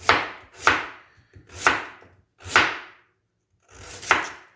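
A dull kitchen knife chopping food on a board, five heavy, separate chops with short pauses between them, close and loud, with no voices.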